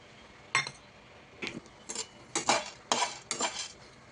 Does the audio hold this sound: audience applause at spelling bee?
no